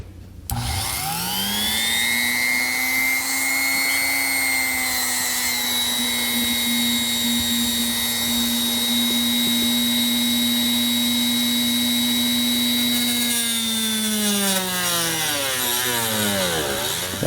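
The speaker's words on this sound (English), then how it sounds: "I'm just using a rotary tool with a cutting blade." A rotary tool fitted with a cutting blade notching a part during a trailer brake controller install in a 2019 Jeep, whining up loud and close, cutting steadily for about thirteen seconds, then winding down.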